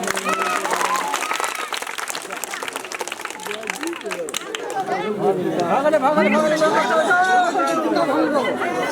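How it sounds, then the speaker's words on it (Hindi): Audience at a Maithili comedy stage play about dowry clapping in welcome, a dense sustained wash of applause mixed with crowd chatter and voices throughout, swelling louder in the second half. "ताली बजा के स्वागत करू"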